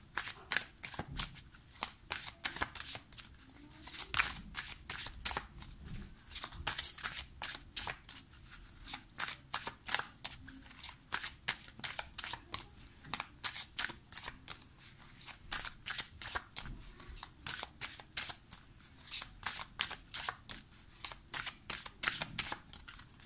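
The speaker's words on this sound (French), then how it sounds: "Hop, je vais vous tirer quelques cartes du Golden Lenormand." Golden Lenormand oracle cards being shuffled by hand, a steady run of quick crisp riffling flicks close up and fairly soft, continuing without pause for over twenty seconds.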